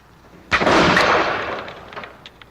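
A single loud rifle shot fired in the woods, a sharp crack followed by a long decaying echo.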